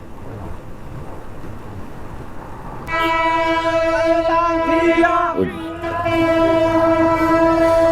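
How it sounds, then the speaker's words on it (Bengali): A train passes near an elevated expressway in Dhaka. A steady rumble of rolling cars carries a loud, sustained multi-tone horn that begins about midway and continues to the end, with a brief dip. "হ্যাঁ, ট্রেন যাচ্ছে"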